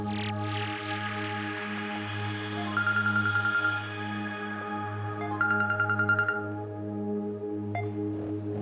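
A phone rings in short electronic tones over a steady low hum, with a brighter ringtone burst near the middle and toward the end.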